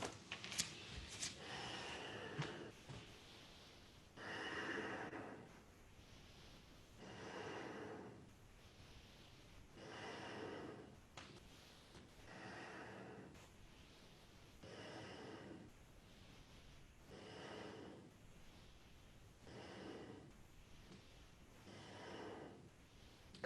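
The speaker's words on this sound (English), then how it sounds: "Keep breathing long and deep." Long, deep yogic breaths during a kundalini yoga kriya, about ten slow inhale-exhale cycles roughly two seconds apart, soft and close with a steady rhythm and no talking.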